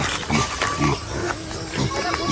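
Piglets in a pen on a farm, grunting and squealing in short bursts nearby over a noisy background, with a person talking.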